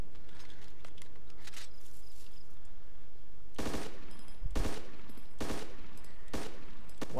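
Gunfire aimed at a helicopter in DayZ: sparse distant shots at first, then four loud, sharp cracks in quick succession, close and dominant, with no talking.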